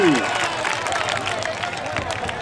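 Crowd applause and cheering at an outdoor kabaddi match, a brief wash of scattered clapping heard under a commentator's loud voice.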